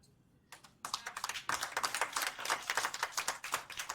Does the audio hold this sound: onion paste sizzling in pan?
no